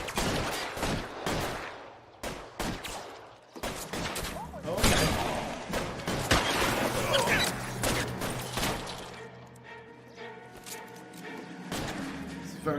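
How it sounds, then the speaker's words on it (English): Video game gunfire crackles in rapid bursts and volleys with thuds, mixed with game sound and a voice talking over the action. "I gotta figure out how to shoot."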